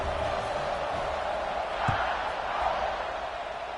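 Football stadium crowd at an NCAA game, a broad steady roar of cheering that swells briefly near the middle, heard at a distance under a commentator's voice.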